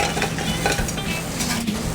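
Bacon rendering in a pan in a restaurant kitchen, giving a steady, continuous sizzle at close range with faint scraping of a utensil, no talking.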